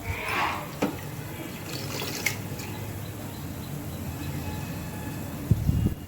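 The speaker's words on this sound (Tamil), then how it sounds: "தண்ணி நல்லா கொதிக்குது" Water bubbles and simmers gently in a pot for mudakathan keerai soup, with soft occasional clinks and a brief louder bubbling near the end, no voices.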